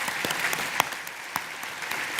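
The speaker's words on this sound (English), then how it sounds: "Give them a massive round of applause." At a business awards ceremony, an audience gives the presenters a burst of full, dense applause, many hands clapping continuously with a few louder individual claps standing out.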